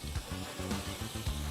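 Crushed mackerel (alumahan) sautéing in a pan, a steady close sizzle with soft crackles and brief stirring scrapes running throughout.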